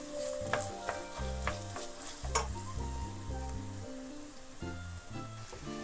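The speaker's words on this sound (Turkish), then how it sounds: "Pirinçleri pirinç taneleri şeffaflaşana kadar yaklaşık 5-7 dakika kavuracağım." Rice sizzling and toasting in a pan while being stirred for a chicken pilaf, a steady crackling fry that sits under louder background music throughout.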